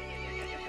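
A horse whinnies in Resident Evil Village, a short, dense call over a steady game soundscape, loud and close.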